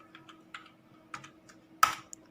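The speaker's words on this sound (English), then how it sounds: "so I'll just type home" A computer keyboard typing a short terminal command, a handful of quiet separate keystrokes with an irregular rhythm, ending in one firmer key press, close and alone.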